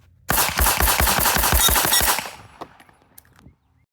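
A rapid string of close, loud pistol shots from a Smith & Wesson M&P Competitor firing 147-grain rounds, about a dozen evenly spaced cracks that stop abruptly and leave fading echoes and faint clinks.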